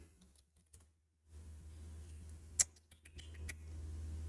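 Typing on a computer keyboard, a few sparse, close key clicks and taps in short bursts with pauses between, over a low steady hum.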